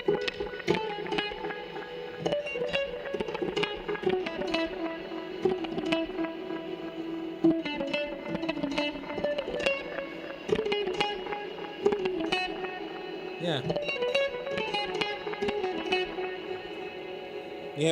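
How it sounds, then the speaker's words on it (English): Electric guitar notes ring out with heavy, washy reverb, plucked phrases blurring into a long echoing tail, played alone without talking. "That's a lot of reverb. I think we need more. More reverb!"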